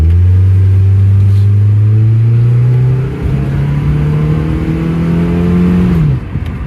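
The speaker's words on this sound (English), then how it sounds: "I want to get the revs high" Loud engine of a 1987 Pontiac Sunbird revving to about 5,500 rpm, pitch climbing steadily, a brief drop at a shift, then rising again before easing off.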